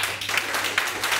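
Audience applause in a studio show setting, a brief burst of steady clapping at moderate level with faint voices mixed in.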